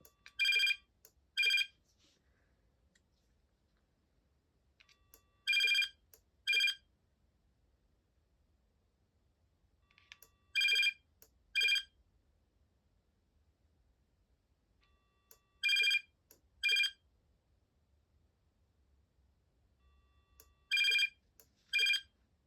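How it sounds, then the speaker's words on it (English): A Binatone Icarus 2100 cordless phone rings alone in a quiet room, its electronic ringtone sounding in evenly spaced paired bursts about every five seconds, five cycles in all, clear and fairly close. "so I'll just let it ring until it"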